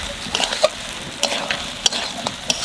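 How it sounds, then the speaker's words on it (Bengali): Duck meat being sautéed in a pan for duck curry, with steady sizzling under sharp, irregular scrapes and clinks of a stirring spoon against the pan. "এই যে মাংস কষাতে কষাতে লাল হয়ে গেছে।"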